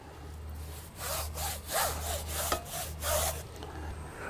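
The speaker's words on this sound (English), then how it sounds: "you can simply just brush it off, or brush it onto your patio furniture" Rhythmic back-and-forth scrubbing of a soft brush over patio furniture, several even strokes close to the mic with a low steady hum beneath.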